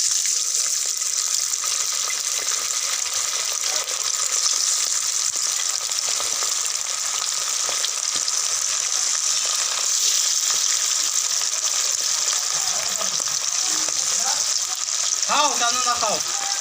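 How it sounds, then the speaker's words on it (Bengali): Chicken pieces coated in egg fry in hot oil for chili chicken, a dense, continuous sizzle that carries throughout, with a brief voice near the end. "এভাবে চিকেনটা ফ্রাই হচ্ছে।"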